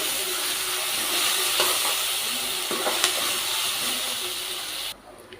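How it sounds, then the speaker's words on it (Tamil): Ginger garlic paste sizzles and hisses steadily in a pan, with a few faint stirring clicks, before the frying noise drops away abruptly near the end. "அப்புறம் இஞ்சி பூண்டு பேஸ்ட்டு போட்டுக்கோங்க. கிண்டிக்கலாம்."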